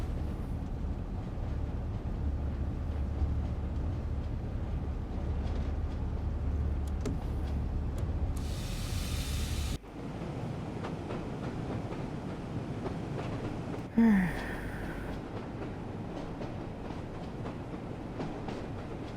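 Locomotive D65 566 running in Train Sim World 2 on the West Somerset Railway, a steady rumbling drone of engine and wheels with a rail clatter, a brief hiss and a short abrupt change partway through.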